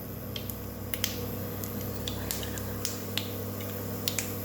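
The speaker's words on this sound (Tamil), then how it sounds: "கடலைப்பருப்பு, உளுத்தம்பருப்பு, கடுகு இதெல்லாம் நான் வந்து கொஞ்சமாக ஆட் பண்ணியிருக்கேன். இது நல்லா பொரிஞ்சதுக்கப்புறம்" Chana dal, urad dal and mustard seeds splutter in hot oil, with sharp scattered pops and crackles over a steady low hum, close and fairly quiet.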